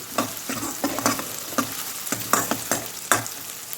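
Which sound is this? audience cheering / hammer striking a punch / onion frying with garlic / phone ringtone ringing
onion frying with garlic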